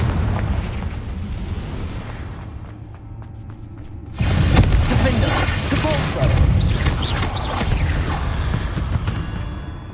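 A Confringo blasting spell bursts in Hogwarts Legacy, a loud, sudden explosion cutting in partway through and followed by crackling, rumbling debris over continuing game sounds.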